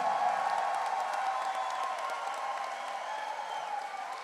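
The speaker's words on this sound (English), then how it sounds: "how about a big round of applause for both these fighters" A crowd at a caged fight event applauds and cheers both fighters after the bout: a dense, sustained wash of clapping with scattered whoops, heard from within the arena.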